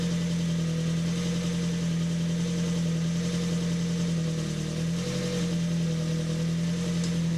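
A Ford Focus engine idles steadily just after a cold start, a constant low hum with a faint rough knock running through it, heard up close with no talking.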